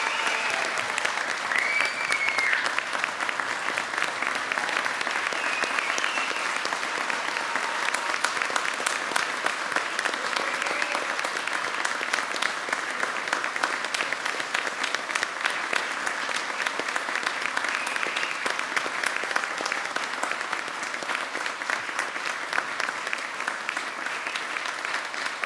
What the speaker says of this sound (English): Please join me in a round of applause for the newest and most junior lieutenants in the United States